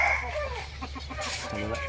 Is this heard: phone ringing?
no